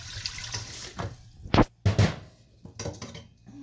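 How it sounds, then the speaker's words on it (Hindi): Water is poured into a pot of masala for rice pulao, splashing in a few short, uneven gushes with brief pauses between them, close and fairly loud. "अब इसमें पानी डालते हैं"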